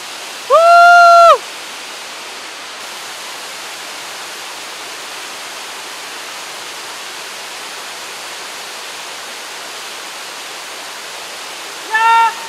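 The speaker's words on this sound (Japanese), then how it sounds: "いやいい滝だ、偉大だ。" A steady, broadband rush of a waterfall in the Iwami region of Shimane, Japan, fills the whole stretch, constant and close, with a brief whistled tone near the start and again at the end.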